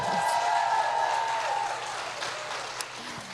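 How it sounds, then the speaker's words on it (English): An audience at a community panel event applauds, a dense steady wash of clapping that carries on and slowly tapers over a few seconds. "give them a round of applause"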